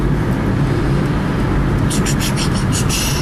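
A car rolls along a road, a steady loud interior rumble of engine and tyre noise with faint high ticking near the end.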